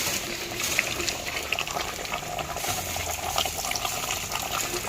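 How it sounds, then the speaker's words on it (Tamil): Dissolved tamarind water pours into a pot of dhal sambar with mango, a steady soft gush of liquid heard close and continuous under a faint kitchen hum. "இது ஒன்று புளியை கரைச்சி அதில் ஊற்றிடுவோம்"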